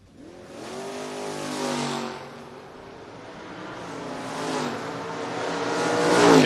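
Drag race between a Ford Mustang and a Chevrolet Monza: loud engines rev and roar as the cars launch, swelling, easing, then building again to a strong close.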